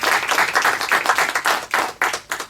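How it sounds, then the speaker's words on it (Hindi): A studio audience at a junior quiz show grand finale claps for a contestant in a short, lively burst of applause with quick, uneven handclaps that fade toward the end. "एक बार जोरदार ताली हो जाए शानिया"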